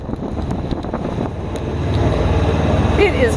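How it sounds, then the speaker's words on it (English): A sailboat's inboard diesel engine runs steadily with a low, continuous throb under wind noise on cold, damp water, while a person speaks over it. "the best sail plan for today is the inboard diesel engine"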